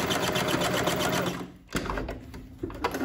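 A sewing machine stitches the end of a seam on a boat-neck blouse, reversing into a backstitch; a steady close mechanical whirr runs, pauses briefly, then resumes in short bursts.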